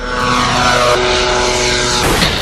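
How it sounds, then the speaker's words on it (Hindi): An Ababil-3 military drone taking off from a runway, its engine a loud, steady propeller drone that holds throughout with a slight swell near the end. "पहला ड्रोन है अबाबिल 3 जो रनवे से टेक ऑफ करता है।"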